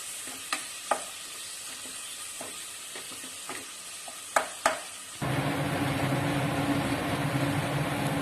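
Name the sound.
chicken stock added to chilies and garlic in pan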